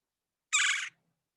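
A single short, harsh call from a wild woodpecker in Chicago, bright and raspy, lasting under half a second and heard close and clear against silence.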